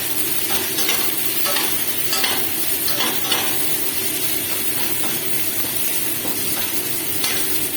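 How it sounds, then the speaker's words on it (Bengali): Tomatoes fry in a pan with salt, turmeric and Kashmiri chilli, giving a loud, continuous sizzle with light stirring scrapes throughout and no speech. "টমেটোগুলো আমি ততক্ষণ ভাজবো যতক্ষণ না গলে যায়।"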